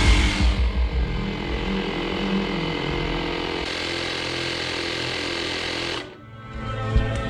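An electric pump inflates a bicycle tire with a loud, steady motorized drone for about six seconds, then shuts off abruptly, leaving a quieter room and a faint click.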